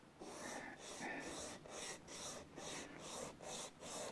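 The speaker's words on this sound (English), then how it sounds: "So cutting by hand, sanding by hand" A Tanglewood JLD guitar bridge is sanded by hand in about nine even back-and-forth rasping strokes. The strokes are soft, rhythmic and close, with quiet room noise behind them.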